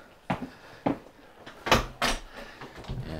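Someone walks back through a door inside a house next to a garage, giving a series of close thumps and knocks from the door and latch, with rustling and a louder bang as it swings and closes.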